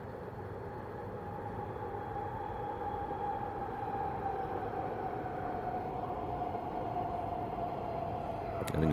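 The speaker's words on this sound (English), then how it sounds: "I think I'm just going to talk through those trains." A steady low rumble of a train passing at a distance, continuous and even throughout, with no voices, swelling slightly at the very end.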